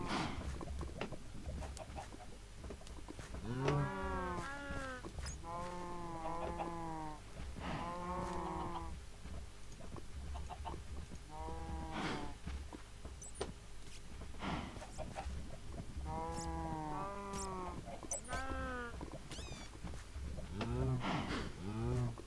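Repeated cow moos in Minecraft, several distinct lowing calls spread through the clip at an even, moderately loud level, with faint game background noise.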